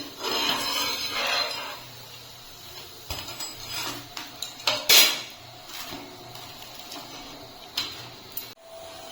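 A crispy semolina and moong dal dosa is scraped and lifted from a pan, with close metallic scraping, tapping and crackling clatter in uneven bursts and no talk.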